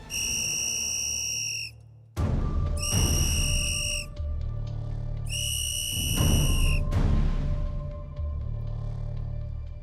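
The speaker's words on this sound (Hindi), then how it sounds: "अब मैं बजाती हूँ किसी की सीटी" During a cooking competition, a shrill whistle is blown in three long, loud blasts separated by short gaps, with a steady background hum and bustle underneath.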